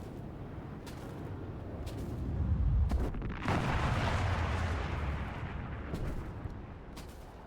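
Aircraft guns firing in a flight combat video game, a loud sustained roaring rumble with sharp bursts layered on top, swelling in the middle and easing off slightly toward the end.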